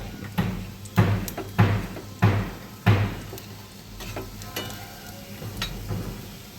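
Fish roe fritters frying in oil in a pan, a steady sizzle with a series of sharp utensil knocks in the first three seconds, then softer sizzling with light clinks.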